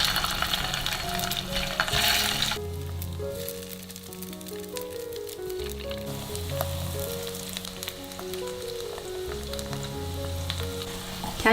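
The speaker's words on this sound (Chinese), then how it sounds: "接着来起锅热油，肉这一面放下来煎。" Okra stuffed with shrimp paste fries meat-side down in hot oil in a pan, giving a dense, continuous close sizzle with crackling, while background music plays over it.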